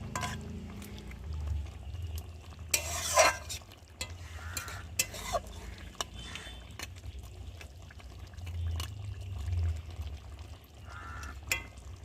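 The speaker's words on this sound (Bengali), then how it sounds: "আর ধনে পাতা দিয়েছি তো একটু না নেড়ে দিলে হবে না।" A spoon stirs red tengra fish curry with fresh coriander leaves in a pan, giving soft scraping and wet sloshing over a gentle background sizzle, close and intermittent.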